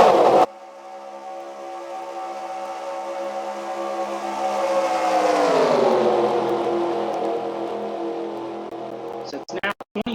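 NASCAR Cup Series stock cars racing at Daytona produce a sustained engine drone that rises in pitch and swells, then sweeps lower as the pack passes, loud and continuous with crowd or broadcast noise breaking in at the end.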